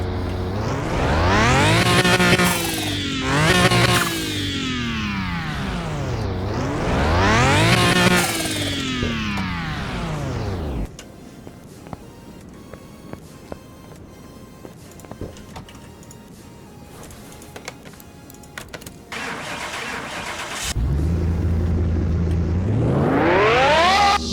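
Engine revving up and down in repeated swells, cutting out to quiet clicks and idle noise before roaring back again.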